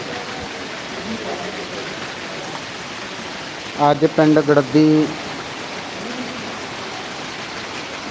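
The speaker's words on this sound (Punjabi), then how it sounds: "ਜ਼ਿਲ੍ਹਾ ਮਾਨਸਾ ਦੇ ਵਿੱਚ ਭਾਰੀ ਬਾਰਿਸ਼ ਹੋ ਰਹੀ ਹੈ" Heavy rain pours steadily over Garaddi village in Mansa district, a dense, even hiss throughout, broken briefly by someone speaking near the middle.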